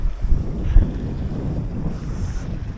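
Steady wind rushing past a sailboat out at sea, blowing from the east at about 10 knots, with low buffeting gusts and microphone wind rumble and faint water noise throughout, no talking.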